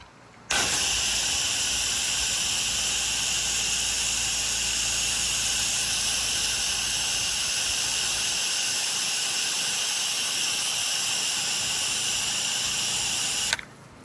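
A hose sprays water onto old cedar siding and the plants beside it during a soft wash, a loud, constant hissing rush that starts abruptly and runs for about thirteen seconds before cutting off, with no talking.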